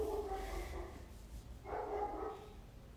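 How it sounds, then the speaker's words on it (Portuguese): A dog barks in the background, two muffled, somewhat distant barks about a second apart over a steady low hum. "cachorro vai fazer uma companhia hoje aqui de fundo"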